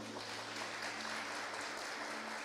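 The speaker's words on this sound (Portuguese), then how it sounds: "Você pode aplaudir a Ele por isso?" A church congregation applauds in dense, steady clapping that sounds distant and fairly faint. It comes as a short, continuous wash with no talk over it.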